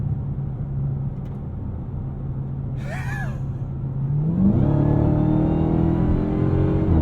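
A Dodge Challenger Hellcat engine rumbles low, then revs up sharply near the end with a rising whine as the tires spin at partial throttle; a brief high squeak cuts in midway.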